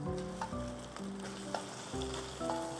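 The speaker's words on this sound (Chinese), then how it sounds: "油热之后啊，把前面这个裹好鸡蛋的馒头啊倒下去" Egg-coated pieces of leftover steamed bun sizzling and frying in hot oil in a wok, with steady crackle and occasional stirring scrapes, no talk.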